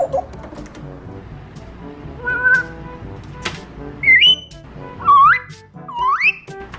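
A pet parrot mimics the word "wow" several times, giving loud, swooping whistle-like calls over a background of faint room noise and soft murmurs.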